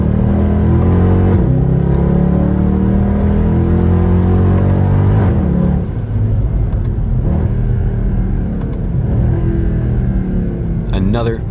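A Mercedes E63 AMG accelerates on a race track during a track day, its engine a loud, steady rumble that rises in pitch as the car pulls along the barrier, continuous throughout with a slight shift midway.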